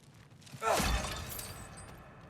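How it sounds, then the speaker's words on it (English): Objects smashing in the video game God of War Ragnarok, a single sharp shattering crash with debris rattling and fading afterward, fairly quiet overall. "Just smashing everything inside."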